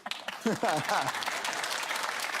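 A British TV panel show studio audience bursts into loud applause just after a voice, and the clapping stays full and continuous to the end.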